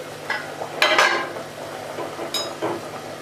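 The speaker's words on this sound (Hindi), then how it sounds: "अब मैं चम्मच चला दूँगी और थोड़े से और उबाल आने दूँगी।" A spoon scrapes and stirs chana pulao with capsicum in a simmering pot, a few distinct clinks and scrapes at irregular moments over a soft bubbling background, with no voices.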